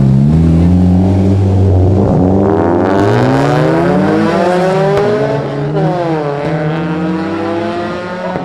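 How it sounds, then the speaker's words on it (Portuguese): A Honda Civic Si revving hard on a street, loud close engine note climbing through the gears as it passes by, with a rising and falling roar throughout. "Eu quero que comentem que carro é esse que acabou de passar aqui"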